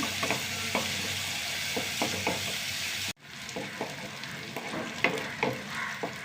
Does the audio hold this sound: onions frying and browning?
yes